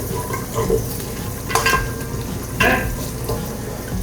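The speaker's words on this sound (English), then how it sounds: "So I'm just gonna start getting my butter melted." Butter melting in a pot on the stove and being stirred, giving a steady low sizzle broken by two louder scraping strokes of the spoon against the pot.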